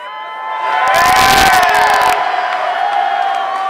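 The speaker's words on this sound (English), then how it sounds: "I can barely hear myself over this crowd" A large crowd at a Halo esports final erupts in loud cheering and whooping, swelling quickly, peaking with a burst of sharp noise, then holding as a sustained roar.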